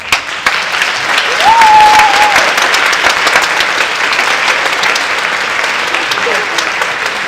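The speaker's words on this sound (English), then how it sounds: "Let's give them a round of applause." Sustained audience applause at a high school a cappella concert, a dense wash of clapping from a full room that stays loud and steady, with a brief whistle near the start.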